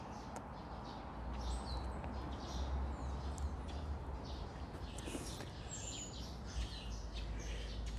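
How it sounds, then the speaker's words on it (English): Faint bird chirps and tweets drift over a steady outdoor rumble at Toyokawa Inari Betsuin temple in Akasaka, Tokyo, scattered calls from a distance throughout. "You can hear the beautiful sounds of the birds."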